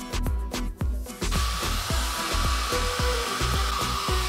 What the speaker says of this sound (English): Now we'll dry him with a towel, then a hair dryer.